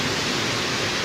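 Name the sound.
rushing river water at Panjnad headworks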